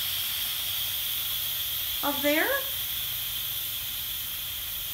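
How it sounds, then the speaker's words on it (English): Steady loud hiss of steam venting from an Instant Pot on quick release after cooking spaghetti with meat sauce, continuous throughout, with a brief spoken remark over it midway. "All the steam is coming out"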